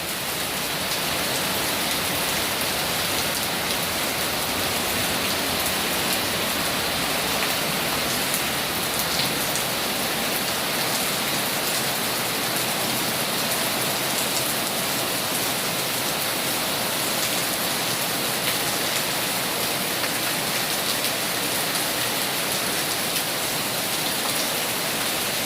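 Heavy rain pours steadily during storm Noru under a darkened sky, a dense, continuous hiss of rainfall on surfaces that stays loud and unbroken throughout, with no voices.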